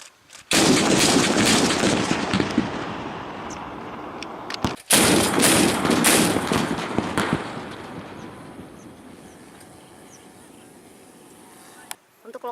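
Gunfire at a military shooting practice range, a dense burst of loud shots in the first seconds, then a second barrage that tails off into quiet; commands are shouted around the firing.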